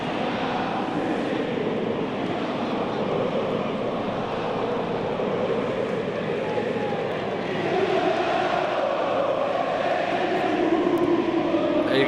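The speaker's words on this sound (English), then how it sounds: "You can definitely hear the Curva Sud starting to make some chants there in the background" AC Milan's Curva Sud supporters chant in the stadium during a match against Genoa, a dense, distant crowd roar that swells slightly toward the end without clear distinct words.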